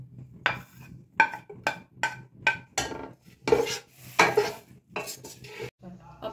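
Chopped onion goes into hot oil in a karahi for a Lahore-style chicken karahi, with a sharp series of metal scraping and stirring clanks, a spoon striking the pan in an uneven rhythm over a faint sizzle.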